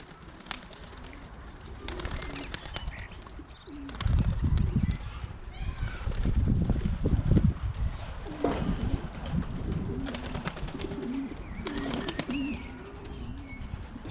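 Young racing pigeons coo and rustle in a loft, a steady low murmur of calls with scattered chirps and a louder burst of flapping or movement midway, while someone talks over them.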